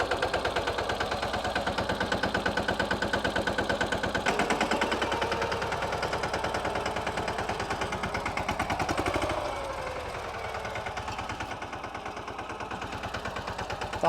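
A mini tractor engine runs close by with a steady, rapid chugging beat that drops slightly in intensity partway through and continues to the end.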